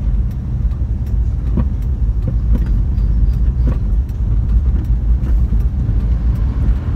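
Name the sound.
road traffic jam of coal trucks in Jambi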